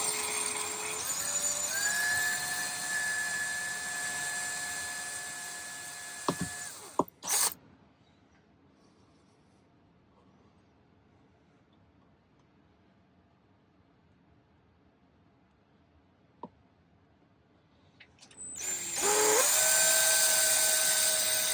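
Small drill boring holes in hammered metal earrings, a high whining buzz that runs for several seconds, stops for a long quiet stretch with faint handling, then starts again loudly near the end.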